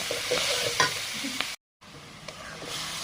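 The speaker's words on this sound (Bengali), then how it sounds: "দিয়ে ভালো করে ভেজে নেব" Ground spices sizzle and are stirred in a hot pan with onion and garlic, a steady close frying hiss broken by scraping spatula strokes, then a brief dropout before the sizzle resumes.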